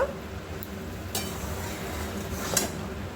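Fried cabbage being worked together with spices in a pan for a cabbage, long bean and prawn dish, giving a few faint metallic clinks of a utensil against the pan over quiet background noise.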